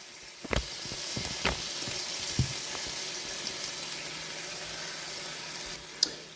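Food sizzles steadily in a frying pan, with a few sharp clinks and scrapes of stirring or turning standing out near the start and end, at moderate, fairly close level.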